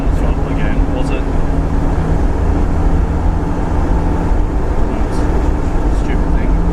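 A Toyota Surf's 2L-TE turbo diesel engine, freshly fitted with a Unichip, drones loudly and steadily under short throttle bursts during road tuning, with a low, constant rumble throughout.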